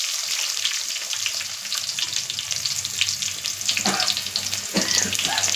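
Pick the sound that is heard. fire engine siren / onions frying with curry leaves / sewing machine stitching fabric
onions frying with curry leaves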